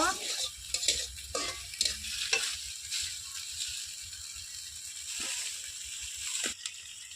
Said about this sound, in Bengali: এভাবে নাড়িয়ে চাড়িয়ে মাংসটা একদম কষিয়ে নেব।